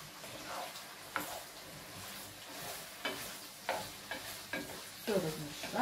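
Scraping and stirring in a frying pan over a steady sizzle, with utensil knocks against the pan at irregular moments.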